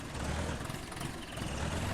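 An Ursus 60 tractor engine in a console farming game mod rumbles at a steady low idle, a dense loud drone throughout with no talking.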